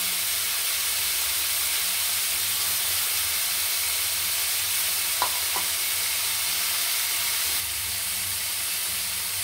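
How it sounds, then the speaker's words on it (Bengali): Chana dal sizzles in a pan with ridge gourd, potato and pointed gourd, giving a steady close frying hiss with a couple of faint utensil clicks midway and no talking. "ছোলার ডালটা ঢেলে দেবো ঝিঙে, আলু, পটলের সাথে আমি একটু ভেজে নেব।"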